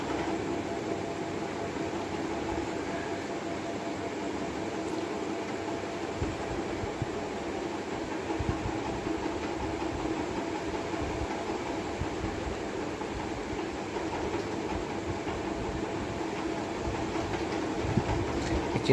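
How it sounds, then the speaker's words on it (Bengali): A children's dragon train ride runs at a crowded fair during the Mahesh Rath Yatra in Serampore, Hooghly, giving a continuous mechanical rumble and whir with faint clatter, steady and unbroken. "এটা হচ্ছে ড্রাগন ট্রেন, মানে ড্রাগন ঘুরে বেড়াতো"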